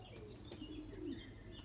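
Belgian racing pigeons in their loft give faint, soft coos and a few small chirps against a low background hum, quiet and somewhat distant, with no talking.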